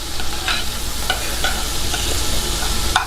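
Finely chopped small red onions shallow frying in oil, a loud continuous sizzle with occasional crackles and stirring clicks throughout.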